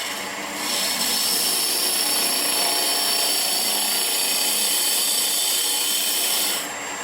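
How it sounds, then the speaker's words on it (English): Hunter number 5 Badger carbide cutter hollowing out wood on a lathe, a steady continuous scraping rasp that holds evenly for about six seconds before easing off, close and fairly loud with no talking. "Now we're going to hollow this out with the number 5 Badger."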